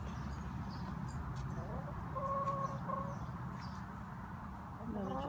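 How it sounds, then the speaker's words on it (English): Farmyard chickens cluck steadily in the foreground, a continuous fowl chatter with a few sharper calls rising above it, alongside goats kept on the same property. "there's Zoe, another chicken."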